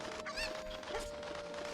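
Chickens cluck briefly in Kakariko Village in Zelda: Ocarina of Time, a few short, faint fowl calls over soft game ambience.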